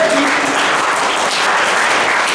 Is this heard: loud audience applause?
yes